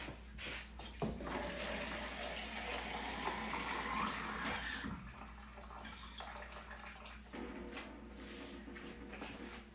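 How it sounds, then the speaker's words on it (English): Warm water is poured steadily into a jar for pickling brine, giving a continuous close splashing stream that changes tone as it runs, with a few soft knocks partway through. "Another bit more of the warm water."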